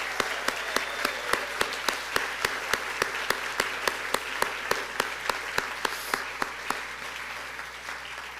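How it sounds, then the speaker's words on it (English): An audience at a reunion convocation claps in a steady, evenly spaced rhythm, each sharp clap standing out clearly over low room noise for the whole stretch. "Please join me in a round of applause for Lucy"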